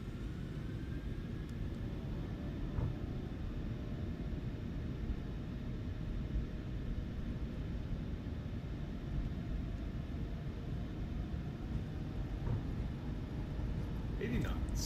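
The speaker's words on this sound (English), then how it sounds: "Set takeoff thrust" A Ryanair PMDG 737-800 in Microsoft Flight Simulator 2024 has a steady, dense engine roar and rumble throughout, holding even at high power with a faint whine above, while voices are heard intermittently.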